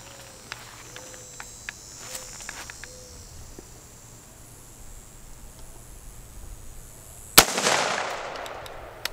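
A single sharp gunshot cracks out near the end over a quiet outdoor background of chirping insects, followed by a brief noisy decay.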